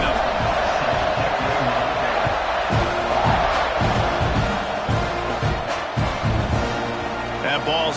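Football stadium crowd roaring steadily before a kickoff, a dense, loud wall of cheering and voices filling the whole stretch, with a few sharper shouts rising near the end.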